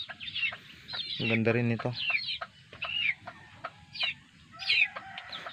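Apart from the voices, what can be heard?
chickens clucking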